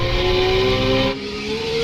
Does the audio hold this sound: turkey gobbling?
no